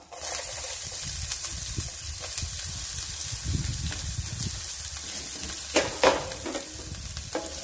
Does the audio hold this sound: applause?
no